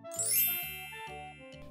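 A phone message notification chime rings out as a bright bell-like jingle of several quick tonal dings, clear and close, with no talking.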